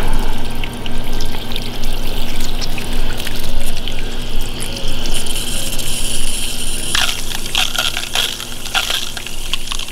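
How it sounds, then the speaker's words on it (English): Water runs and splashes steadily over a freshly cleaned quail carcass in a backyard farm setting, a close continuous gush with brief sharper spatters toward the end. "we'll take a quick pause to rinse this out real quick."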